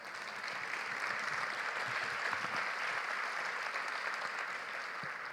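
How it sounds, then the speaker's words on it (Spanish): Steady audience applause at a large annual business conference, an even wash of many hands clapping at moderate distance throughout. "así que un aplauso enorme."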